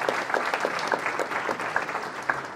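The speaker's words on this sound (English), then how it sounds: "So big round of applause to all the youth over here." Enthusiastic audience applause for youth at a Muslim community gathering, dense steady clapping from a crowd filling the whole moment at close range.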